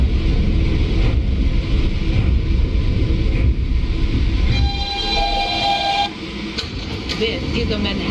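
A simulated Manhattan-bound 4 train, an R152A subway train in the OpenBVE train simulator game, runs with a loud, steady rumble throughout, brief tonal squeals partway through, and a slight drop in level near the end.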